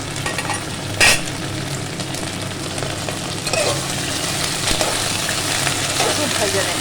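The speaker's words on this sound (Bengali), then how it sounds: "একটু ভেজে নেব পটলটা" Pointed gourd (potol) frying in a pan in a home kitchen, giving a steady sizzle with occasional scraping stir sounds and a brief clatter, close and fairly loud throughout.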